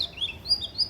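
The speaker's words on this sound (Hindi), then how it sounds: "चिड़ियों की थोड़ी बहुत आवाज़ सुनाई देती है" A few short, high bird chirps in a garden, spaced through a quiet moment, light and slightly distant.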